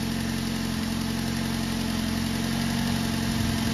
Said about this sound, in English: Now it's going to normally bring itself down to regular idle speed because it's on a cold start.